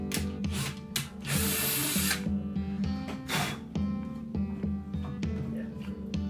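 A power drill with a sharp bit whines steadily through the wooden back of a Gretsch Jim Dandy acoustic guitar, its pitch and load shifting as it bites, with brief bursts of grinding chatter, loud and close.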